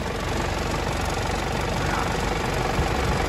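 A car engine idles steadily while transmission fluid drains from underneath, a constant low rumble that holds close and even throughout with no voices.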